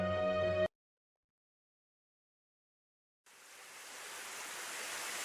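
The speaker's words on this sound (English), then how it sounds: "The sound of rain pouring from the skies." Pouring rain from the visual novel Narcissu fades in after a brief musical snippet and a long pause, becoming a dense, steady wash of noise that grows louder to the end.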